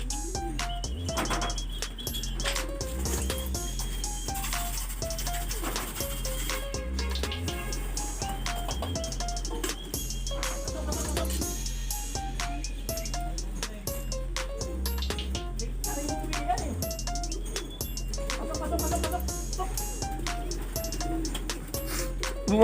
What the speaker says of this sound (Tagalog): Loko yung mga ibon ngayon, no?